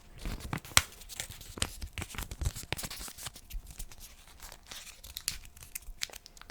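Paper is folded up close by during a card trick, giving soft irregular crinkles and crisp snaps, quiet and without speech.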